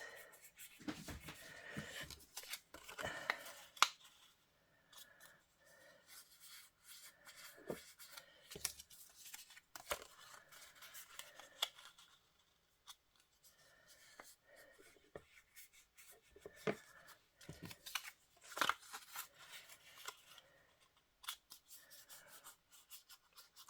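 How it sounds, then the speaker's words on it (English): Paper pieces being folded in half by hand for a fabric journal project, with soft rustling and creasing sounds coming in scattered bursts, close up and fairly quiet, with no talking. "fold these in half. So fold them like that"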